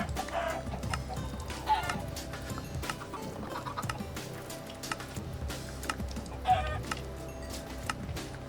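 Minecraft chickens cluck in short, scattered bursts over a busy layer of keyboard typing and mouse clicks during a modded live play session, with no talking.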